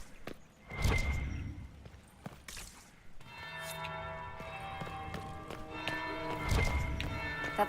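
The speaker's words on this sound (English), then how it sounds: "That's the bell." A church bell rings inside the Dragon Age Inquisition game, its long sustained tones filling the background over moderate ambient sound, with footstep-like clatter and occasional thuds mixed in.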